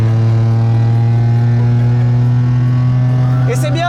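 A car fitted with Formula 1 tyres holds a loud, steady full-throttle engine drone to warm the tyres, close and sustained, with a brief voice near the end.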